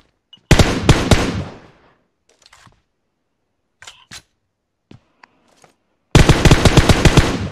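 Automatic gunfire in PUBG Mobile on the Miramar map: a loud, rapid burst of shots up front, a few faint scattered pops in the middle, then another close, sustained burst at the end.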